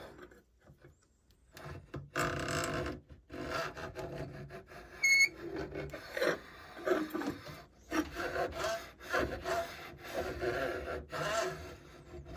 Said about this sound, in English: Now we'll go ahead and scribe our center line.